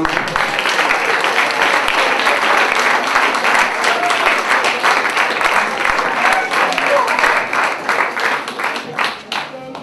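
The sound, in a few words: applause for the kids of Catania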